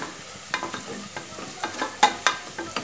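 Spatula stirring and sautéing a ground masala of green chili, shallots, mint and coriander in a pan for mushroom pulao, with a soft sizzle under a series of sharp scraping strokes, close and fairly quiet.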